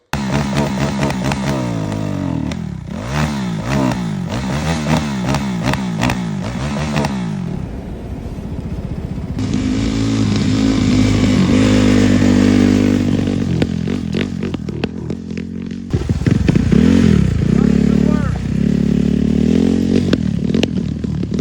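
Small ATV fitted with a 450R engine, running loud and close with repeated sharp revving bursts and rising, falling throttle sweeps, no talk over it.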